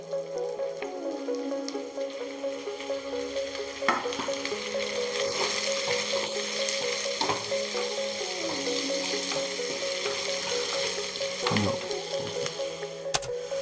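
Sliced onions sizzling steadily in a hot pan for a Kerala-style chicken curry, a constant frying crackle with occasional stirs and scrapes, close and moderately loud with no talking.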